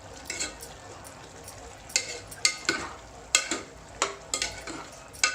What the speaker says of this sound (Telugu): పచ్చిమిరపకాయలు వేస్తున్నా.